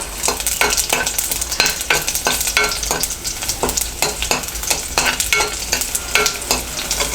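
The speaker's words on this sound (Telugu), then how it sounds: "కొంచెం వెల్లుల్లిపాయలు కొంచెం వేగనివ్వాలి." Garlic and mustard seeds fry in hot oil for a banana tomato curry, giving a loud, steady sizzle broken by rapid crackles and popping ticks, with a spoon stirring and scraping the pan throughout, no voices.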